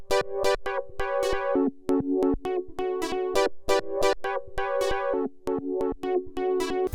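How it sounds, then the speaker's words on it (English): Synth chords from a Triton polyphonic preset chopped by a ShaperBox Beat Break 2 effect into rapid rhythmic stutters and gated bursts, bouncy and loud with no talking. "I threw some shaper box on it. I grabbed this full Beat Break 2 preset and slapped it on"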